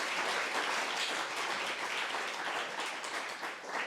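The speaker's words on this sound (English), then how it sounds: "Big round of applause." Dense, sustained audience applause from a crowd at a university startup pitch night and showcase, honouring the founders as they stand, loud and steady throughout with no talk.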